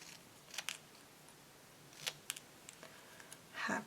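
Scissors cutting paper while making a stenciled glitter birthday card, a few faint, brief snips scattered through a quiet stretch, with a slightly longer rustle at the end.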